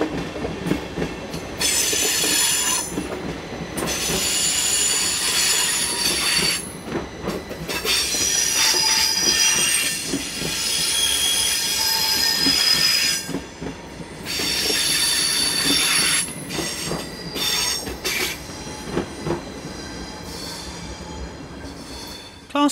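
A Stadler Class 511 double-deck trainset rolls into carriage sidings, its wheels squealing in long, shrill stretches over a rumbling clatter of rail noise, loud and sustained throughout.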